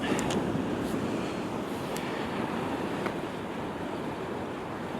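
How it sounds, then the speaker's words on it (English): A light northerly wind blows on the Northumberland coast at Craster, a steady broadband rush with surf-like wash beneath it and a few faint clicks, near and constant, with no talk. "Got an ever so slight little light bit of northerly wind"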